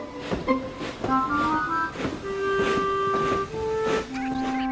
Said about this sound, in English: And Thomas puffed back to the sheds.